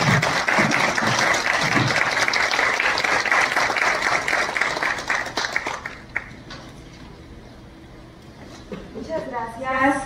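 An audience applauds to welcome a speaker at a talk on evangelization through art, with sustained clapping for about six seconds that fades away, followed by a voice speaking faintly near the end.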